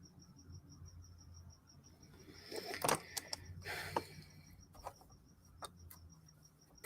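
Crickets chirp in a fast, steady pulse throughout, loud and close, with scattered nearby clicks, taps and rustles breaking in over the drone.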